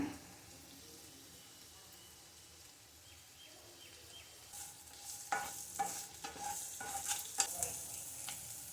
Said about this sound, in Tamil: இது ஒரு ரெண்டு நிமிஷம் வதங்கிடுச்சு